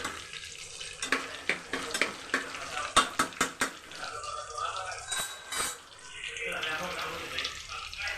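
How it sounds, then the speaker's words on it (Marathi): Spiced rice (masale bhat) browning in a hot pan, with a steady sizzle punctuated by sharp spoon clinks and scrapes in quick bursts, while a voice talks in the background. "ते बघा, चांगला लालसर परतून घ्यायचा."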